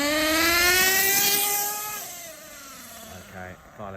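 A Hong Nor Force 32 5.2cc nitro engine in an HPI Trophy Truggy screams at full throttle, high and buzzy, then drops in pitch as the burst eases off, with a few short blips after, loud and close.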